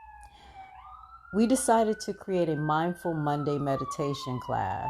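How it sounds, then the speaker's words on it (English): Emergency vehicle sirens outside in a U Street neighborhood, a steady rising wail running through the whole stretch beneath someone talking close up. "to help us deal with distractions like the sounds you're hearing from the sirens"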